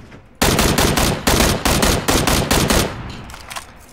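A loud burst of rapid automatic gunfire in the video game PUBG, a string of close, evenly spaced shots lasting about two and a half seconds before trailing off.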